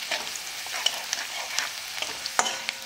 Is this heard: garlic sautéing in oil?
yes